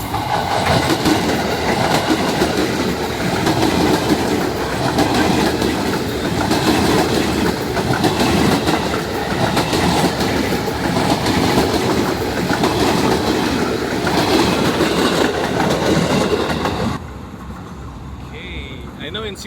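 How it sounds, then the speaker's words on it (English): A train rumbles loudly past in a Jakarta slum, with continuous clattering wheels and rail noise for most of the clip, then drops to a quieter ambient scene near the end; voices can be heard amid the din. "For the train. Train will pass."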